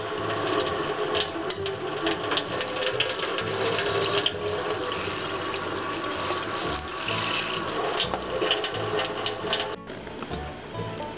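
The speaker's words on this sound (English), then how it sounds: "I'm going to rinse it a few more times and just move it around" Homemade butter made from raw milk is rinsed and stirred around in running water, a steady close splashing and gurgling of tap water filling a bowl that continues throughout, with faint clinks.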